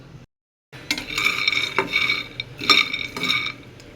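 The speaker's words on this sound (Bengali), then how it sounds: "মিডিয়াম টু লো হিটে আস্তে আস্তে নেড়ে চেড়ে ভাজতে হবে যেন পুড়ে না যায়" Peanuts roasting in a wok over medium-low heat are stirred, making repeated close scraping and rattling sweeps with a light sizzle, in uneven bursts after a short silent gap.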